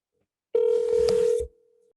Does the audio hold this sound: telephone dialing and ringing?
yes